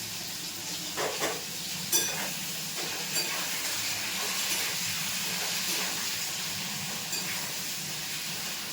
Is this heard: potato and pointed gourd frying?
yes